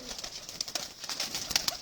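Pigeons in a loft, a flock of about 45 birds, cooing steadily with repeated soft calls and wing and foot shuffles, fairly close and continuous.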